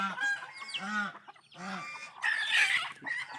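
Chickens at feeding time cluck and squawk in close, busy bursts, with several birds calling over one another and a louder, harsher flurry of noise near the end.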